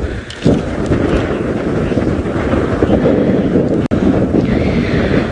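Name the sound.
gusting wind on a safari drive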